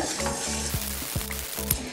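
Steady sizzling of pesaha appam being fried in a pan, fairly close, with a few soft stirring scrapes and clinks breaking through at intervals.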